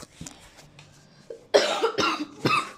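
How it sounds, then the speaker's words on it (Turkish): A sick person coughs several times in a row, loud and close, with harsh rough bursts following a quieter stretch of faint room sound. "Arkadaşlar öksürdüğüm için özür dilerim."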